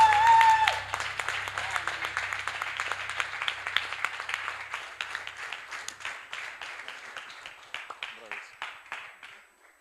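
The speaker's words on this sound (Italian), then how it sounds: "un applauso" Audience applause after a blind latte art competition performance in Italy, a dense patter of clapping that starts loud and gradually thins and fades over about ten seconds, with a brief voice at the very start.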